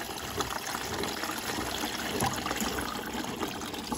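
Water running and trickling steadily into a Bosch washing machine drum during a 70-degree cotton wash of fluffy blankets, a continuous close hiss and splash without talk.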